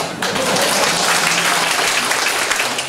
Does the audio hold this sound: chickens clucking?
no